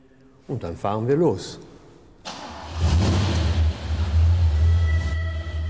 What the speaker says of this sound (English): Driving around with the sound of that sumptuous 8-cylinder